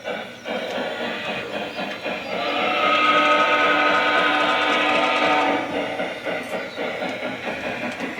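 A Lionel model train engine runs under remote control, its steady rolling rumble swelling louder in the middle and easing off again, close and continuous.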